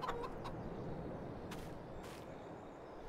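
Chickens cluck and squawk in a few short, fairly faint calls over a steady, noisy farmyard ambience in Farming Simulator 22, with a couple of brief sharp hisses midway and no talking.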